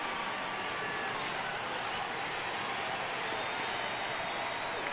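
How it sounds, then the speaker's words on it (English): Stadium crowd noise from a baseball game in MLB The Show 18, Yankees at Red Sox, a steady loud roar with cheering rising for a full-count pitch, continuous throughout. "Crowd gets up for the 3-2."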